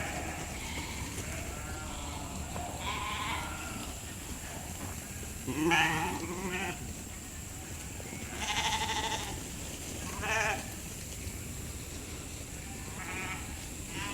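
A large flock of sheep moves together across rotationally grazed pasture, with repeated bleats rising from the steady shuffle and rustle of the animals. Louder bursts come and go at intervals, some near and some farther off.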